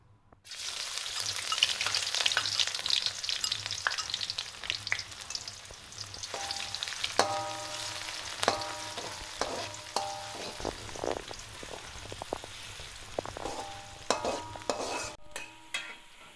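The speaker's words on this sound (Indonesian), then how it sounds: "Langkah pertama yaitu buat isian dengan cara menumis bawang merah." Shallots sautéed in a pan as the first step of making a filling: a steady close sizzle of frying with repeated scraping and clinking stir strokes of a utensil against the pan, no talk.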